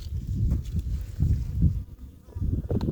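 Honeybees from a strong autumn-split breeding colony buzz around the hive, a dense, steady drone rising and falling in loudness, close to the listener with no talk.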